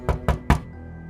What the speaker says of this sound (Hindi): फिर बंद दरवाजे को जोर से नॉक करने लगा।